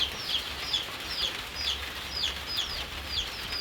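Village chickens cluck in short repeated bursts, fairly distant and soft, over a low steady background hum.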